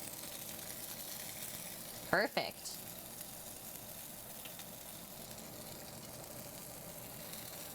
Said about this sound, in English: Should hear somewhat of a sizzle when we put this in.